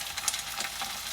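Butter melts and sizzles in a pan before wontons go in, a soft crackling hiss with faint stirring scrapes, close but quiet, with no voices.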